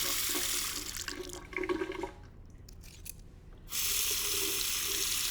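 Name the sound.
rinsing a razor under running tap water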